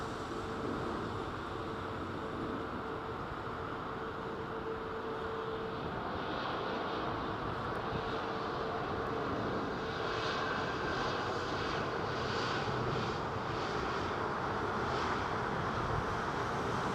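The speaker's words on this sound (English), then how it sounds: "Paul Skilling, 747, not far out" A Boeing 747 approaching London Heathrow Airport gives a loud, steady jet roar that swells gradually over the whole stretch, with broadband rush and some wind on the microphone.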